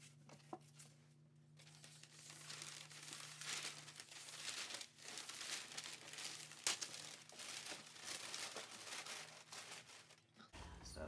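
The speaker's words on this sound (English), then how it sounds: "I'm going to put bubble wrap in the bottom, and then I'm going to put a layer of packing paper" Bubble wrap and packing paper are handled while a DVD-VCR combo player is packed for shipping, giving continuous close crinkling and rustling with a few sharper crackles and brief pauses.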